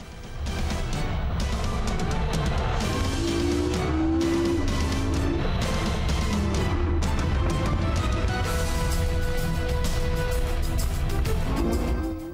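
Porsche 918 Spyder hybrid supercar roaring at full speed around the Nürburgring Nordschleife, a loud continuous engine howl with shifting pitch and gear changes, sustained throughout.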